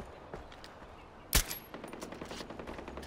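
A single sharp Sandman pistol shot rings out in Far Cry 4, close and loud, followed by faint rattling game ambience.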